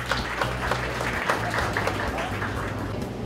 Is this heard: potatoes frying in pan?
no